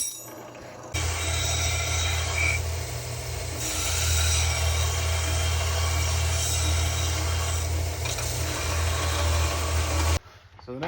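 A bar of mild steel, 1.25 inches wide and 3/16 inch thick, is cut by a power tool in a loud continuous grinding whine lasting about nine seconds, starting and stopping sharply.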